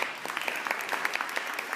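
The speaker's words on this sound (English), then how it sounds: "How about another round of applause for the parents?" Guests at a Sweet 16 party applaud the parents with a short burst of close, distinct hand claps, individual slaps standing out in a quick uneven rhythm.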